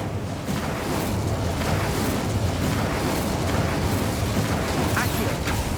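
A fire spell cast in a wizarding video game gives a continuous roaring, bursting whoosh of flame with rumbling low blasts. It stays loud and steady throughout, with voices in the background.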